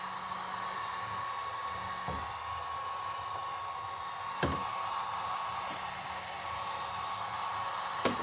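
A hot air gun blows a steady hiss as it heats steel so the rubber on it can be peeled off, running continuously with a few faint knocks.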